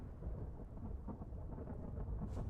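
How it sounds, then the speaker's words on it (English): Thunderstorm in the Vintage Story video game, a low distant rolling rumble of thunder over a steady hiss of rain, fairly quiet and continuous, with no voices. "there's a thunderstorm."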